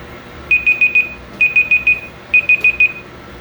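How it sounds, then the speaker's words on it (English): Kitchen timer alarm going off while cooking in a van, beeping in three loud bursts of four rapid, evenly spaced high beeps each, with no other sound over it. "Alright, so our timer has gone off"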